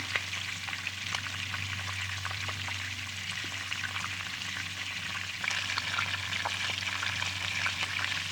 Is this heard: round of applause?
no